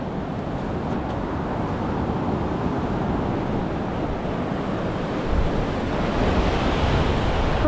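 Rough sea waves at a beach in Phu Quoc, Vietnam, a continuous loud surf wash with wind buffeting the microphone.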